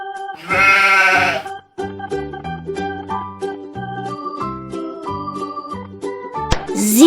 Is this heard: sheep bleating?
yes